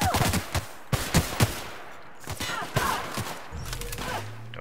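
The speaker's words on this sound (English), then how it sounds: "That was a machine gun." Machine gun fire in the video game The Outer Worlds, several short rapid bursts of shots, loud and sharp at first, then scattered and softer, with a low rumble near the end.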